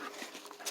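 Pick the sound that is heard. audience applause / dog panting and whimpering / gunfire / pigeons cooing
dog panting and whimpering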